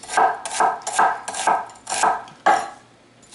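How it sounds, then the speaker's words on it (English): A knife chops an onion into julienne strips on a board, six crisp, evenly spaced cuts close by with a brief pause before the last, no talking. "And we're going to cut this into julienne strips."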